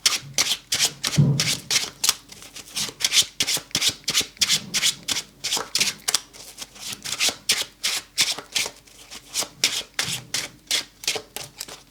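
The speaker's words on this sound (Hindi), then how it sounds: "ओके, कार्ड्स को शफल करेंगे पाइल नंबर 1 के लिए।" Tarot cards being shuffled by hand, a steady run of crisp riffling bursts repeating every half second or so for the whole stretch, close and fairly loud with no talking.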